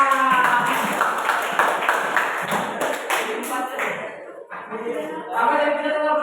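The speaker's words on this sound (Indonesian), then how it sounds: "Oke, tepuk tangan." Pupils and a teacher in a classroom clap hands in a quick run of sharp, close claps that fade out, followed by talking.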